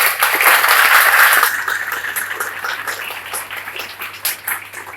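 An audience applauds loudly, a dense burst of clapping at the start that thins and fades into scattered claps over a few seconds.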